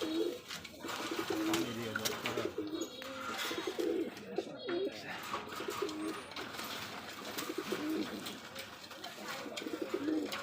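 Caged Rajshahi Giribaz pigeons on a farm keep up a chorus of overlapping coos throughout, fairly close and soft, with human voices talking underneath now and then.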